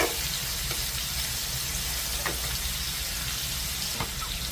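Shrimp frying in a pan after being flipped, a dense, steady hiss and crackle of hot oil heard close up, with a few faint pops and no voices.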